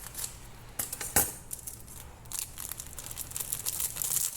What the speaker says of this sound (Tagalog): Gunting nyo dito para mabilis.